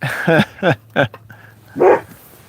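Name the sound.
dog barking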